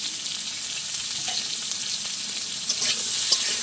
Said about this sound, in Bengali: একটু লাল লাল করে ভেজে নেবো আলু।